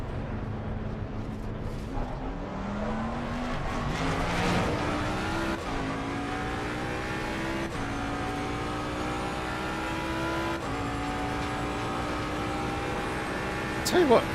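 Ford Mustang GT3 race car pulls onto a track, its engine climbing steadily through the gears in repeated rising revs with brief shift breaks, heard from inside the car, fairly subdued and steady.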